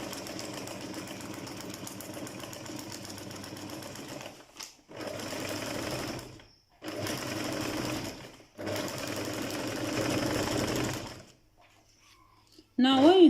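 A sewing machine stitches a seam across fabric squares in bursts of steady mechanical whirring, pausing briefly between runs, close and fairly loud, with a voice speaking briefly at the end.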